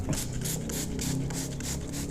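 A handheld spray bottle mists homemade egg fertilizer over the leaves and stems of a potted plant, giving a steady series of short, close hissing spritzes in a quick regular rhythm.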